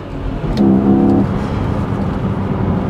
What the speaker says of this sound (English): And let's just floor it.